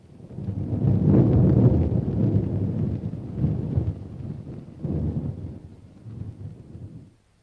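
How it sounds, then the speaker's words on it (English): Rolling thunder from a storm in a Western film, a loud deep rumble swelling and fading over several seconds, with a second roll near the end before it cuts off. "It's a mighty grist of rain out yonder."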